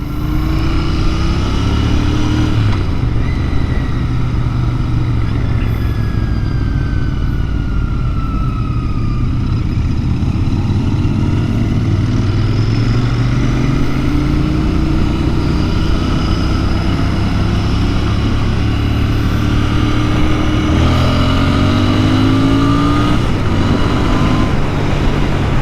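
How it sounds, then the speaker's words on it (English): A Royal Enfield Interceptor INT 650 motorcycle accelerates hard from a standstill, its engine note climbing through rising revs and gear changes, loud and close with heavy wind noise and no talking. "the Royal Enfield, the INT 650 actually is able to pull very good from the line"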